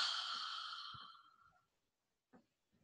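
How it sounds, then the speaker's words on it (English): A long, slow breath exhaled audibly during a calm seated chair yoga session, fading gradually over about a second and a half, followed by quiet with a couple of faint soft rustles. "Let's take one more deep breath."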